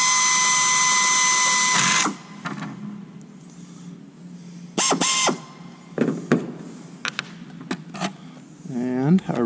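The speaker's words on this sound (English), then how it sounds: "that one I'm gonna have to maybe just drill a tiny bit more." Power drill bores out rivets in aircraft sheet metal, a loud sustained whine for about two seconds, then short bursts of drilling and clicks with quieter pauses between.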